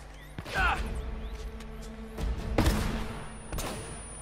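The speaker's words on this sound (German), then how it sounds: "Ich glaube, das war eine Granate." A grenade explodes during gunfire in the Uncharted: Drake's Fortune Remastered PS4 game, heard as sharp blasts and crashes in a loud, busy action scene of shots and impacts.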